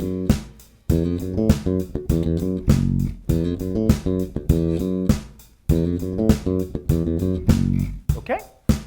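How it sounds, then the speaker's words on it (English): A bass guitar plays a choppy riff of short plucked notes with brief pauses, close and fairly loud, without talking. "we're going to look at a pretty straightforward bass riff"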